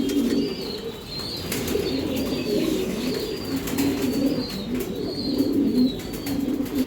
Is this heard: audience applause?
no